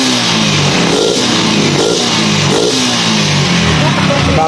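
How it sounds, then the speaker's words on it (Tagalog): Yamaha Sniper 150 motorcycle engine with a misfiring fault, revved hard several times in close succession, loud and close with a rough buzzing tone that rises and falls. "okay na ang motor ni sir"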